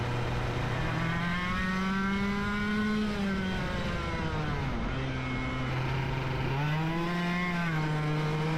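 Racing kart engine on a track, a loud buzzing two-stroke drone close by that climbs, drops off and climbs again through repeated throttle changes around corners.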